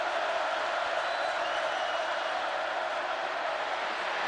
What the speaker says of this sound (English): Crowd starts to make some noise here at the Swamp.